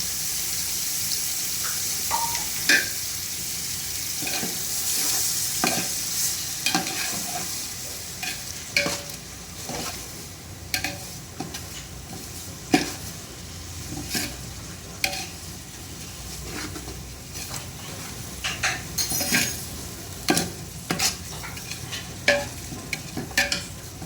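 Ginger frying in a pan for coconut rice while it is stirred, a steady sizzle under repeated scraping and clinking strokes of the spoon, close and moderately loud, with no voices.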